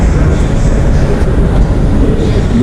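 A crowded morning metro train in China rumbles loudly and continuously at close range, with steady wheel and track roar and faint squeals over the low drone, no clear speech.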